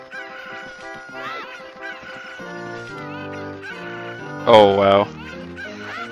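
Cuccos cluck and squawk in The Legend of Zelda: Ocarina of Time 3D during a cucco-hunting minigame, with short game bird calls and a louder burst near the end, under a player's brief exclamation.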